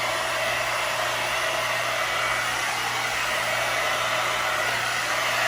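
A hair dryer on low heat blows steadily and close up while hair is being blow-dried for a salon-style blowout at home, an unbroken airy whoosh with a low motor hum underneath and no voices.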